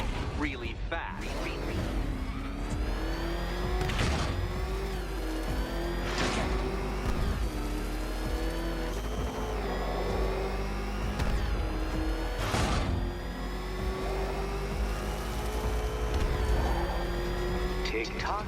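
Batmobile from Batman: Arkham Knight driving hard, a steady engine drone with rising revving and sharp whooshing bursts every few seconds, loud and continuous under occasional talk.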